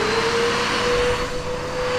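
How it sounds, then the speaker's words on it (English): A gutter cleaning vacuum runs with a loud, steady motor drone and a constant high whine, holding even throughout with no voices. "I've got the fob, start up the vac."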